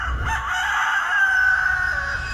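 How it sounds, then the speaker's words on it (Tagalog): A rooster crows in one long, drawn-out call, loud and close, with some low rumble underneath. "Bakit nga ba tumitilaok ang manok?"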